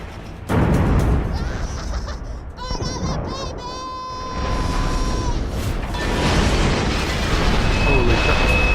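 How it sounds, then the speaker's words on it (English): A train blows up in the VR game Borderlands 2, with a sudden heavy boom followed by rumbling debris, whistling and ringing tones, and a sustained roaring crash that stays loud throughout. "A very forceful explosion."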